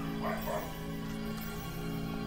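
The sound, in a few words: dog barking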